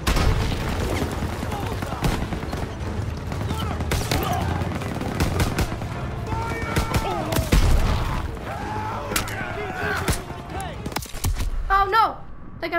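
MG-42 machine gun fire in Call of Duty WWII combat, rapid bursts of gunshots and heavy booms repeating throughout, mixed with shouting voices and battle noise.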